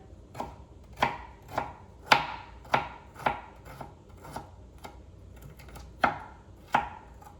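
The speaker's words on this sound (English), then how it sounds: "I gotta slice my ginger." Fresh ginger sliced with a knife on a cutting board: about a dozen crisp, evenly spaced chops land roughly every half second, each a sharp knock with a short ringing tail, close and alone.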